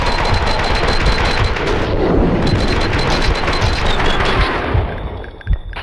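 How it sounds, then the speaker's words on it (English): Dense, loud gunfire from the video game Max Payne 2, with sustained automatic bursts and overlapping shots rattling continuously without pause, heavy and close, with no speech. "Someone must have heard the gunfire."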